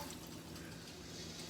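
Water pours steadily into a pot to start a brine for red hot candy cucumber rings, a soft, continuous, fairly faint rushing splash with no voices.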